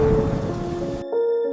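Heavy rain with a rumble of thunder as a storm effect in a Hindi horror story, loud and dense for about a second before cutting off abruptly, leaving a faint tonal hum.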